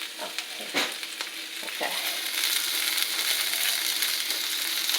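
Vegetables frying in an oiled pan give a steady, moderately loud sizzle, with scraping stirring strokes near the start and a brief spoken word over it.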